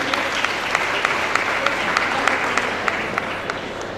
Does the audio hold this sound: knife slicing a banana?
no